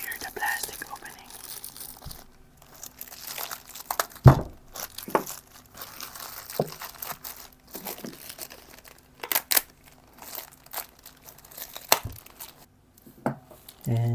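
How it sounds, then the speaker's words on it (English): Plastic packaging around a generic electric AC compressor for a BMW i8 being torn open and crinkled close up, with scattered crackles and rustles plus a few sharper snaps, quiet and intermittent. "Hear the plastic opening."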